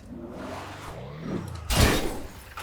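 A car window shatters in the GTA 5 video game during an off-road drive: a rumbling engine and scraping movement, then a sudden loud crash and burst of breaking glass followed by a fading rattle.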